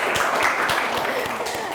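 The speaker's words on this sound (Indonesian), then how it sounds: "Hore, tepuk tangan dulu." A class applauds the winning students, a short burst of clapping from a small group in a classroom with sharp individual claps audible, over in under two seconds.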